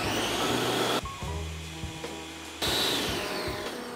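A blender whirs loudly while puréeing a Korean BBQ marinade of sesame oil, sesame seeds, rice wine vinegar and brown sugar. The motor note dips and changes pitch partway through, then rises to full speed again.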